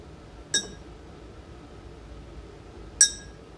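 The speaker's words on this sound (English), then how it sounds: "Now we're going to try metal with glass." Metal strikes glass twice, several seconds apart, each hit a sharp, bright clink that rings out and decays over a quiet background.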